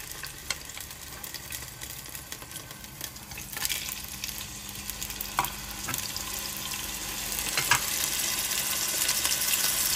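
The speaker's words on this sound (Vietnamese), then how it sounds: "Mình cho cá vào rán sơ qua các bạn ạ." Fish marinated with shallots and chili frying in a pan, a constant close crackling sizzle with sharper pops and spatters scattered throughout, growing slightly louder toward the end, with no talking.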